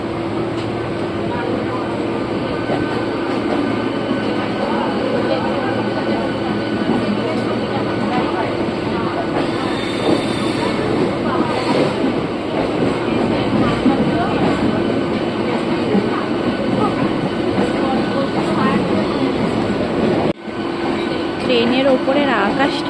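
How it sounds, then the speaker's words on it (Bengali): A train rolls past close to a new bridge under construction, a continuous loud rumble and rattle of wagons with some clickety-clack, lasting throughout with a brief dip near the end. "এই দেখো আবার একটা ট্রেন আসছে।"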